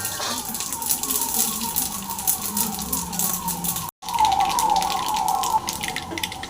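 Mustard seeds spluttering in hot oil in a pan for a dry fish fry, a loud, steady crackling hiss that cuts out briefly midway, then resumes strongly.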